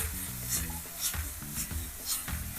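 Tuna sizzling in a heated frying pan, a steady close crackle with rhythmic scraping strokes about every half second, no talk.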